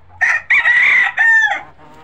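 Native desi village chickens of an original small-sized breed cluck and a rooster crows in loud, close bursts, two short calls followed by a longer crow that trails off.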